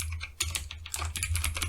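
Quick, close keystrokes on a computer keyboard as a remote desktop search is entered on a PC, an irregular run of clicky taps over a low steady hum.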